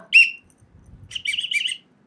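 A whistle gives a sharp short blast, then after a pause a series of quick trilling toots, close and loud with silence between.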